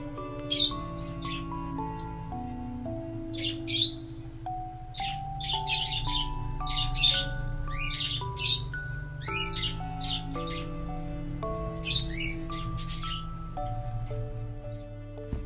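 Bright, rapid chirps and trills from small caged finches on a balcony come in scattered bursts over a steady background hum, close and fairly lively.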